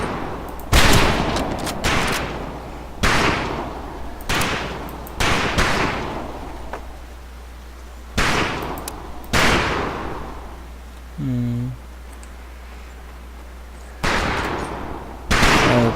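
Scoped rifle shots ring out across a range of long-distance targets in Medal of Honor Pacific Assault, about a dozen sharp cracks with reverberant tails, spaced irregularly, loud and close, with no talking.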